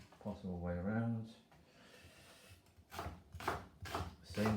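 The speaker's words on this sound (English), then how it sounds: "now I'm going to cut the carrot quite coarsely" A knife coarsely chops a carrot on a board, giving a few crisp, irregular thuds in the second half. Earlier, a voice speaks close by.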